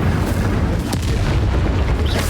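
Bombarda explosion spell in Hogwarts Legacy: a loud, heavy boom that rolls on as a dense, sustained rumble, with no speech over it.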